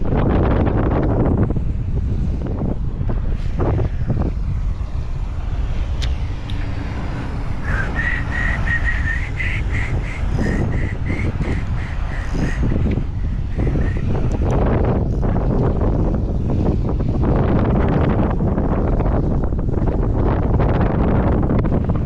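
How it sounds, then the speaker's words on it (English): Strong wind buffets the microphone beside a pond during bass fishing, a steady loud roar with gusty low rumbles throughout, plus a faint whistling tone partway through. "Strong wind."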